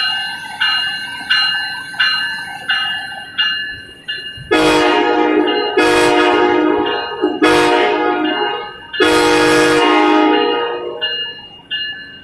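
A bell dings in a steady, regular rhythm, then a loud horn blasts several times in long, powerful bursts as an Amtrak train led by an SC44 locomotive pulls away.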